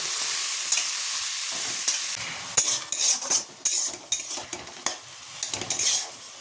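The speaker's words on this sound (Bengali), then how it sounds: "দিয়ে এটাকে বেশ করে নেড়ে ছেড়ে একদম লাল লাল করে ভেজে নিই।" Potatoes and onions being stirred in a frying pan, with a constant sizzle under repeated close scraping and clattering strokes of a spatula against the pan.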